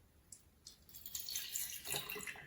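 Water is poured into a container for an atmospheric pressure demonstration, starting with faint splashes and swelling into a fuller, bubbling pour toward the end.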